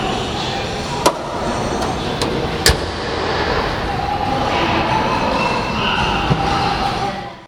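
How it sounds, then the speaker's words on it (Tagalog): White 2022 Honda City V with manual transmission on the road: a steady, loud broadband rumble of engine and road noise from inside the cabin, with a few brief sharp clicks and knocks. "So driving the 2022 Honda City V."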